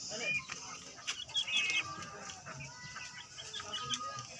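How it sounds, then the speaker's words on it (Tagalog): A small chicken clucks softly and intermittently, joined by brief high chirps, faint against quiet outdoor farmyard background noise. "ating maliit na manok"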